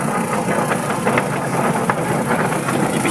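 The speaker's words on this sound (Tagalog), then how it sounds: "Ayan po ang motor ng washing machine." Motor of a Eurotek twin tub washing machine running with a rusted but working drive, giving a steady close hum and rattle throughout with faint intermittent ticks, no talking.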